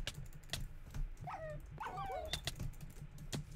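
Dogs in a Minecraft Hunger Games match give short whimpers and yips during a chase, faint and scattered among sharp clicks of keyboard typing.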